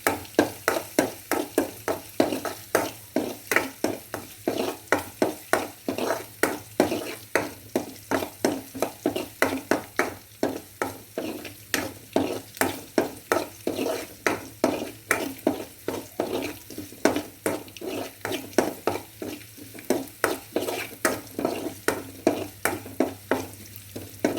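Curry leaves and green chilies sizzle in hot oil for mango pickle, with a spoon stirring the pan in a steady repeating rhythm of scrapes over a constant close frying hiss, no voices.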